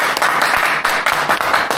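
An audience claps to open a university-style political science lecture in a hall, a brief burst of dense, steady applause with scattered sharper claps.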